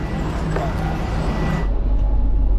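Steady low rumble of a minibus in motion in Thailand, engine and road noise filling the space, with faint voices at first before the drone grows louder.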